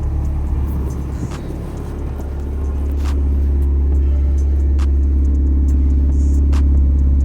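A car engine idles steadily and close by, a deep continuous rumble with the idle speed rising slightly partway through, alone without talk.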